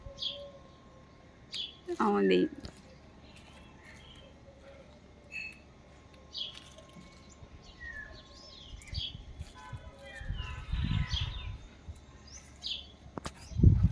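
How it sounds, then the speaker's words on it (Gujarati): Sparrows chirping around a home nest on a hot, muggy day, with scattered short high tweets throughout, faint to moderate and mostly near. A low rumble and a brief clatter break in at times. "ચકલી આવી છે કાળી."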